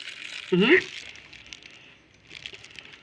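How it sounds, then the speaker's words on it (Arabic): A plastic children's sandwich bag crinkles briefly as it is fitted over a jar of egg pickles to seal it, a short close rustle amid someone speaking in a kitchen. "ده كيس اللي هو كيس سندوتشات الاطفال كده، بحطه ومقفله البطرمان كويس جدا"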